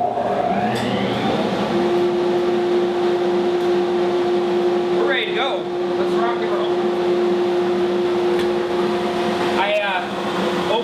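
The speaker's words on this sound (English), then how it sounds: "And the other one is turn on the dust collector." A ShopBot CNC dust collector runs with a loud, steady whooshing hum and a constant tonal drone, continuous throughout, with some background sounds layered over it.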